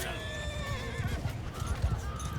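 Horses in the Mount & Blade II Bannerlord video game neigh and whinny over a steady clatter of hooves, with several whinnies rising above dense, continuous battle noise and some talk.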